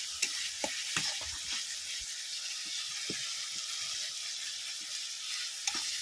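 Masala for an Odia fish curry sizzles steadily in a kadai, a continuous bright frying hiss punctuated by scattered scraping taps as it is stirred.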